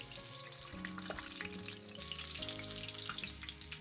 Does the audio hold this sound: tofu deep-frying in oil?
yes